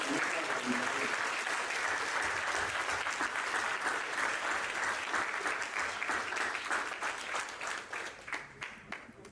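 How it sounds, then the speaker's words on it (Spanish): An audience at an international business criminal law conference applauds, dense sustained clapping that holds steady and then thins out toward the end, with no talk over it. "Que yo quisiera pedir un aplauso para Lupita"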